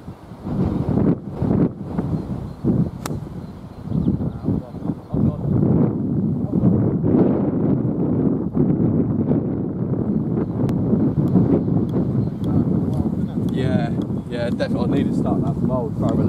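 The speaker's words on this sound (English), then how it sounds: "And that wind coming off the left." Wind blows across an open golf course as a steady, loud buffeting roar against the microphone, lasting throughout, with someone speaking intermittently over it.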